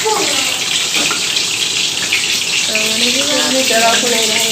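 Kitchen tap water runs hard and splashes steadily into a sink, a loud continuous gushing rush, with children's voices speaking over it near the end.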